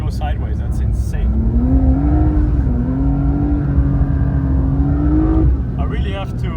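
A Porsche 992 Dakar accelerates in deep snow, its engine note climbing and holding a strained, rising drone for several seconds, loud and close, with brief talk before and after.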